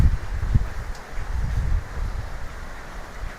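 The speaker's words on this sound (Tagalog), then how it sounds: "sobra, lakas ng hangin talaga" Strong typhoon wind roars steadily into the microphone, with low rumbling gusts buffeting throughout and no voices.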